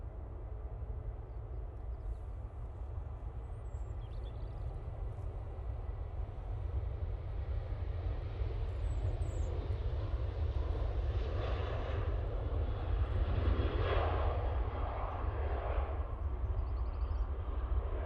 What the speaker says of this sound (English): This Ryanair is off to Malaga.